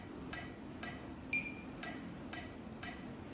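Click track from a metronome: faint, crisp ticks at an even pace about half a second apart, with one higher, ringing accented click among them, in an otherwise quiet room.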